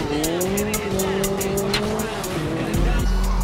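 Rally car from the V-Rally 4 racing game, its engine droning steadily with rising and falling pitch as tires squeal through twisting turns, with a louder low impact near the end; loud and continuous throughout.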